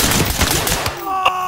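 Rapid gunfire in the tactical shooter Ready Or Not, a loud burst of overlapping shots over about a second, then fading ringing tones.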